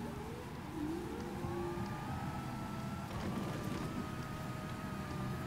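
A Forza Horizon 4 car engine revs up, its pitch climbing and shifting through gears, with a steady mechanical drone behind it, moderately loud and unbroken.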